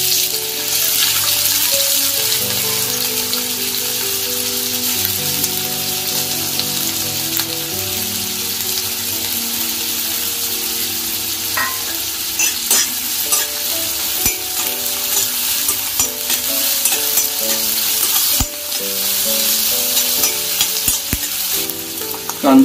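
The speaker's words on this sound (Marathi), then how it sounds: "आता त्याच्यामध्ये जो आपण चिरलेला कांदा आहे काही टाकून घेते थोडं लांबून." Chopped onion frying in a hot kadhai, a steady loud sizzle with occasional stirring scrapes throughout, with music playing underneath.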